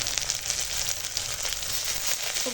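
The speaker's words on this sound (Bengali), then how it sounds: "দেখো এখন আদা রসুন হয়ে গেছে বাটা আর দিয়ে দিলাম" Ginger-garlic paste sizzles in hot oil in a frying pan with onions and green chillies, a steady close hiss and crackle running throughout with no talk.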